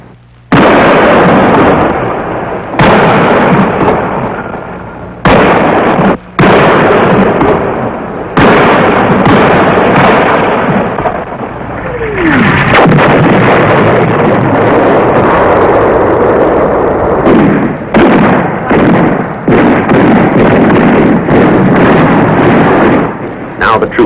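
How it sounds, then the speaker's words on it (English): Artillery fire in the Vietnam War, 1967, comes through as a run of loud, sharp explosive blasts and bursts, some singly and some in quick clusters, under and between spoken narration. "The command decision is to call for artillery fire support to dislodge them."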